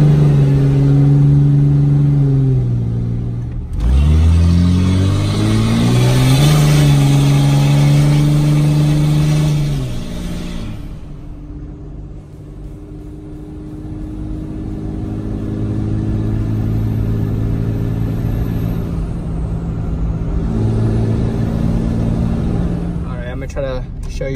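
A 2005 Cummins diesel truck with an S&B cold air intake and the turbo silencer removed rumbles up close, the engine and turbo whistle swelling as it revs hard, then dropping back to a loud idle with someone talking at times.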